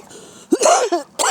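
A close, loud spluttering cough from choking on a Polo mint, with a throaty clearing sound, two harsh bursts with a brief gap.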